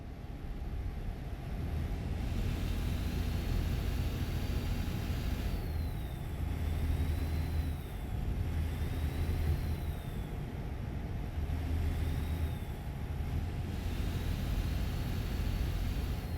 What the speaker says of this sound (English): put the windows down so you can hear the truck sounds